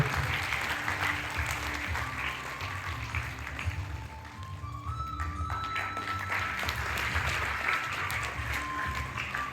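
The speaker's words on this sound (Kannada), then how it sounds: "ನಿಮ್ಮೆಲ್ಲರ ಚಪ್ಪಾಳೆ ನಿರೀಕ್ಷೆಯಲ್ಲಿ ನಾವಿದ್ದೇವೆ." A crowd at a microfinance scholarship distribution ceremony applauds in a long, steady burst, dipping briefly midway before swelling again to full clapping; faint tonal sounds drift underneath.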